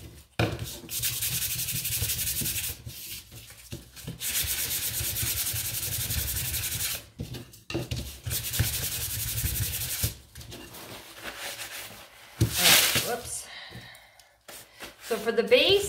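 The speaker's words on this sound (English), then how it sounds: "I'm going to get these ones sanded." Wooden sign holder pieces being sanded by hand, long steady rasping strokes repeated several times with brief pauses, close and fairly loud, with a few soft breaths in between.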